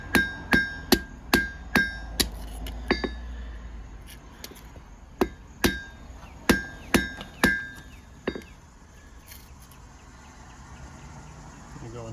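Sharp metallic hammer blows on a heated blade of an inexpensive Camillus fixed-blade knife ring out in quick series, about fourteen ringing strikes with pauses, close and loud, ending in quieter background.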